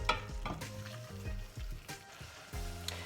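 Oysters and spicy kimchi fry in a pan while being stirred, a steady sizzle broken by repeated utensil scrapes and knocks, close and moderately loud with no talking.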